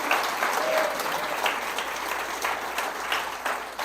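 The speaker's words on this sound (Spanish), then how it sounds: "¿Le dan un aplauso a Jesús en esta hora?" Congregation at a Christian church service breaking into sustained applause, a dense, steady wash of many hands clapping close and loud throughout, with faint voices mixed in.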